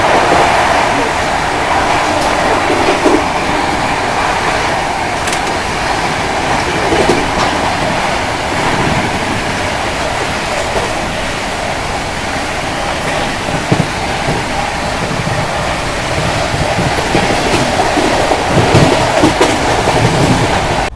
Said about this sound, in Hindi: अभी अपनी ट्रेन स्किप कर रही है फरीदाबाद रेलवे स्टेशन